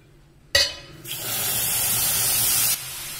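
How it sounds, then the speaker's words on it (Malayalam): Water poured onto sugar in a pan to make syrup for rava laddu, a sharp splash at first, then a steady hissing pour that runs about two seconds and cuts off cleanly. "ഇനി നമുക്കതിലേക്ക് വെള്ളം ഒഴിച്ചു കൊടുക്കാം"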